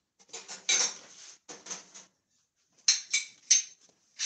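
Plantain porridge stirred in a pot, scraping metallic clinks and rattles of a spoon against the pot in short bursts with brief pauses, close up.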